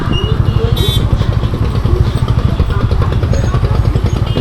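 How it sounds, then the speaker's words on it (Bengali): A motorcycle engine idles close by at Chandraketugarh with a loud, steady, throbbing rumble that runs unbroken through the whole stretch. "এখানে বাইকটা পার্কিং করে আমি নিশ্চয়ই একবার ঘুরে যাব"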